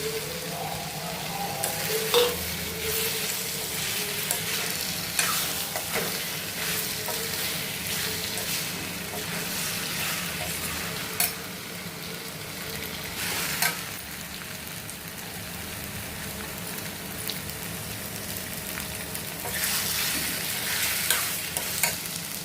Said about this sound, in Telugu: ఇప్పుడు బంగాళాదుంపలు వేసేస్తున్నానండి